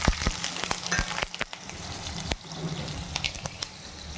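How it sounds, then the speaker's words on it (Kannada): Green chillies and spices frying in hot oil in a steel pan for chicken gravy: a steady close crackling sizzle with sharp pops and clicks throughout, no talking. "ಇದನ್ನಿಷ್ಟನ್ನು ಇವಾಗ ಎಣ್ಣೆಲಿ ನಾವು ಕರ್ಕೋಬೇಕು"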